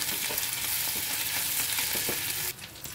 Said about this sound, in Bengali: তেল গরম হয়ে গেলে পরে এই রসুন লঙ্কা বাটাটা দিয়ে দেবো।